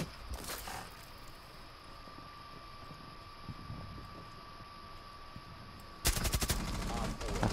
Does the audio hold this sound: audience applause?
no